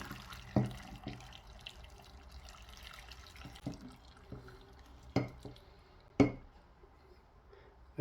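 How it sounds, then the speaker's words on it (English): Water trickles and splashes from a tap into a basin of salted vegetables, punctuated by a few sharp knocks and clinks, fairly quiet with no voices. "I'm putting water on."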